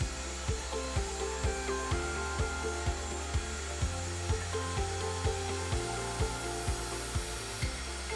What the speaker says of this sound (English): This is me just cutting the backboard for the workbench.